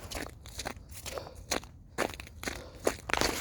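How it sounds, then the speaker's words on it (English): Footsteps crunch over a mix of ice and grass on a nature-center hiking trail, a steady walking rhythm of close, crisp crackling steps heard alone. "Walking down, you got part ice, part grass. You can hear it all crunching below."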